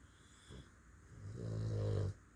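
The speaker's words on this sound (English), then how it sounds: "Listen to my boys. They're snoring." Dogs sleeping on a lap give a soft nasal snore, a faint short breath followed by a longer, louder rumbling snore that cuts off abruptly.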